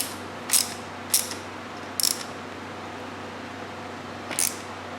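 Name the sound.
tightening a bolt and washer on a motorcycle fork guard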